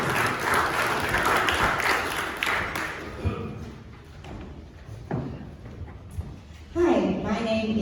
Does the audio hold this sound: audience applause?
yes